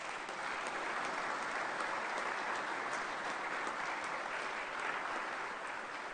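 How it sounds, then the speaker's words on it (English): Sustained audience applause at a press conference introducing a new men's basketball coach, with dense, even clapping filling the room for several seconds. "Give them a big round of applause."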